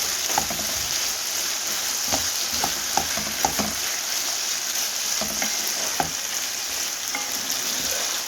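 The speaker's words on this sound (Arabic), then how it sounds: "نحط كمية بس مش كتير، نشوحهم كويس" Green, red and yellow bell peppers sautéing in a pan, a continuous close sizzle broken by repeated clicks and scrapes of stirring, no voices.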